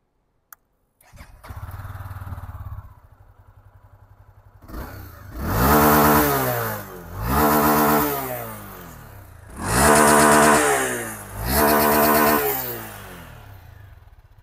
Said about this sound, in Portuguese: Vamos lá, cortar o giro da moto.